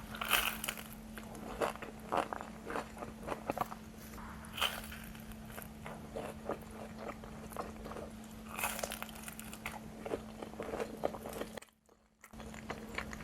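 Close-up crunching and chewing as someone bites into a homemade crispy beef taco with beef and cheese, a repeated crisp crackle over a steady low hum, with no talking.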